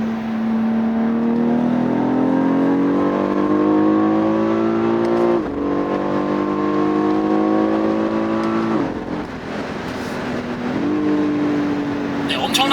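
A BMW X4 M's 510-horsepower engine revs hard in third gear at around 4,500 rpm, its rising whine climbing steadily before quick paddle-shift upshifts drop the pitch, with someone talking over the loud cabin sound.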